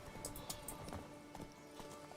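Hoofbeats of Geralt's horse Roach galloping in The Witcher 3: Blood and Wine, a quick, steady clip-clop rhythm that is faint and close, with game sound beneath it.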